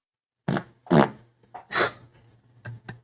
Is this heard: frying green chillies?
no